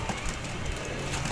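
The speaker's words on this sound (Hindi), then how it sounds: "ये कबूतर है गोल्डन" Golden pigeon cooing among pigeons kept in Faisalabad, a soft low coo heard briefly against a dense, noisy background, close and steady with no talk.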